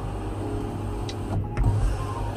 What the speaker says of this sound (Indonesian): ini bisa membuka panoramiknya dengan voice command ya